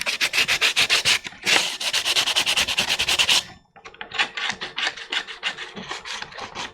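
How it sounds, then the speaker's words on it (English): Rhythmic back-and-forth sanding on the front rib of a plastic armor shin piece for a ShoreTrooper costume, steady close scratchy strokes in two bursts separated by a brief pause. "So we're going to sand down the front rib, because that's the primary mounting point."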